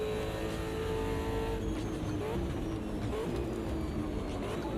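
A race car engine in a sim racing video game drones steadily and loudly throughout, with the engine note shifting slightly as the car works through fast corners.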